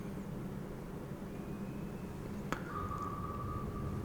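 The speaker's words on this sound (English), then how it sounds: "Con, Flyco, launching aircraft." Aircraft launching from a ship in the naval video game Cold Waters: a sharp transient followed by a steady rising whine over a constant low engine and ocean rumble, moderately loud, with no talk.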